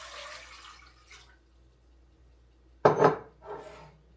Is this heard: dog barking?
no